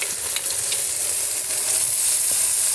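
Spice mix frying in a pan in a village kitchen, a steady continuous sizzle with light stirring scrapes, close and even throughout with no talking.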